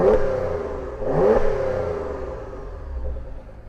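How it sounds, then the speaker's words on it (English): A Porsche Macan Turbo without sport exhaust starts up and idles with a raspy, mid-toned engine note close by, then a sharp rev swells and fades back into a steady, rumbling idle. "Ben, are we going to do a little exhaust? Yeah, you want a little startup?"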